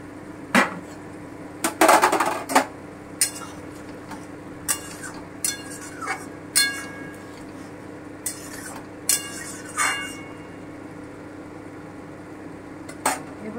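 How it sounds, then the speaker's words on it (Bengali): Mutton rezala stirred in a covered pot, with a metal spoon clinking and scraping against the pot in scattered sharp knocks over a low simmering hiss, the loudest cluster near the start. "একটু নেড়ে দিই।"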